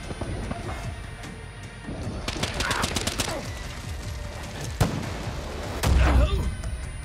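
Gunfire in the video game Far Cry New Dawn comes as a rapid burst of sharp shots midway, then scattered single cracks and a heavier impact near the end, mixed with other in-game noise.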